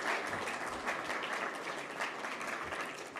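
An audience at a global progress summit applauds in a continuous, even burst of many hands clapping, fairly distant and without talk over it.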